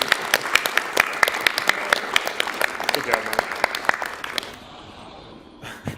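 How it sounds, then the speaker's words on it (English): An audience claps at a speedrun event: dense, sustained applause with crisp individual claps, and a brief voice over it before the clapping thins out and stops near the end. "Round of applause."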